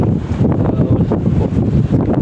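Strong gusting wind during a slow bicycle ride in the UAE, blasting loud and broadband against the microphone in a continuous rough roar with no pauses.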